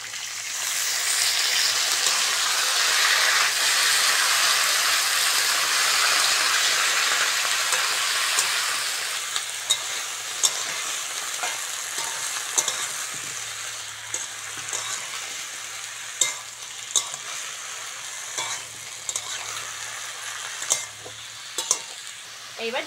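Bottle gourd greens dropped into a pan of fried vegetables for a thin fish curry: a loud hissing sizzle for the first several seconds that fades to a softer crackle, with sporadic sharp spatula clacks.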